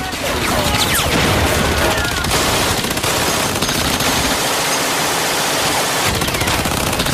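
Sustained, dense gunfire and blast noise from machine guns sweeping a Normandy landing beach on D-Day, a loud continuous wall of rattling shots and crashes filling the scene with no gaps throughout.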